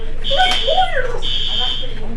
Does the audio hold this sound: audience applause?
no